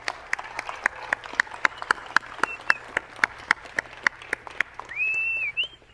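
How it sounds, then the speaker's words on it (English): A city council meeting audience applauds a high school boys basketball team, a moderate, sparse clapping of a modest crowd in a chamber, with a brief whistle or squeal near the end. "Can we give them a round of applause, please?"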